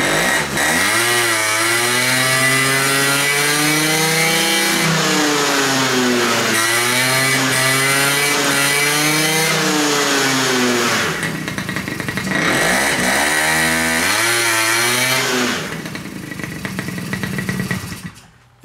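Kymco Vitality scooter engine with a weak motor, running continuously with repeated rising and falling revs, buzzy and close, then dropping in level and cutting out near the end.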